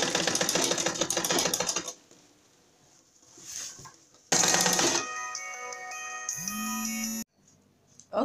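A sewing machine stitches through layered skirt petticoat fabric in two fast, steady runs with a pause between them, loud and close, followed by a sustained electronic tone.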